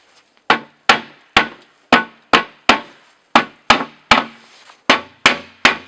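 The front panel of a Jotul 606 wood stove is worked loose with about a dozen sharp, close knocks in an uneven rhythm, each ringing briefly before fading.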